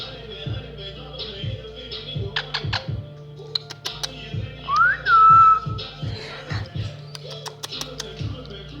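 A pet bird whistles a short rising-then-level note near the middle, clear and close, amid scattered clicks, taps and light rhythmic household sounds, with faint voices around it.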